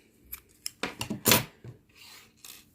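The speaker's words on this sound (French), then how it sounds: "je coupe le fil" Scissors cut crochet yarn while an amigurumi dog is being made. A few light clicks lead into a cluster of close, sharp snips and rasps, which ends with softer rubbing.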